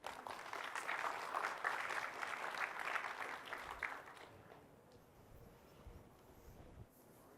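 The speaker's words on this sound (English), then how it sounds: "Round of applause, please." A conference audience at a government technology keynote breaks into applause, a dense clapping for about four seconds that then quickly dies away to quiet room tone.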